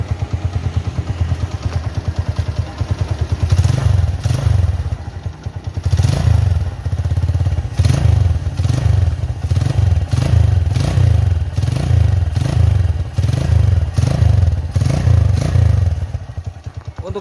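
A motorcycle engine runs nearby, revved repeatedly in short rhythmic bursts with a rattling, clattering exhaust note.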